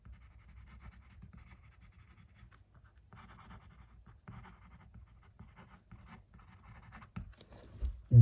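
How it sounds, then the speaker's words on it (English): Platinum Preppy fountain pen with a black Platinum cartridge writing on paper, a soft, continuous scratchy rasp of the nib in steady strokes, close and quiet, ending with a louder thump. "Let's do some writing"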